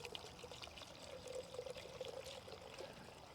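Liquid nutrient is poured into a water mix for outdoor cannabis, a faint, steady trickling and splashing stream that continues without pause, quiet and close.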